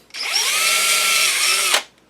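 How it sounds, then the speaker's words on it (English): A power drill bores into walnut wood for a recoil pad mount, giving a loud, steady high whine that runs unbroken for about a second and a half before cutting off abruptly. "put the drill bit in the hole that I started, get the block flat to the wood, wiggle the drill"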